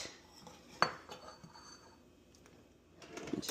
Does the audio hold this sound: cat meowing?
no